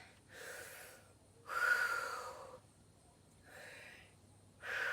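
Heavy, audible breaths while catching breath after a workout: four long inhale-exhale cycles in a slow rhythm, close and fairly soft, with no talking.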